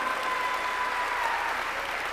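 A congregation at a church sermon applauds in a steady, dense wash of many hands clapping at once, even in loudness from start to finish.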